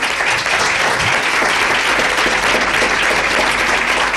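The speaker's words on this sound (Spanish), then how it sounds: "fuerte el aplauso para ella, Lola Herrera" A studio audience at a radio station gives an actress loud, dense, continuous applause, the clapping steady and close with no talk over it.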